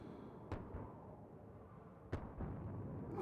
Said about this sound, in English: Secondary explosions are lovely.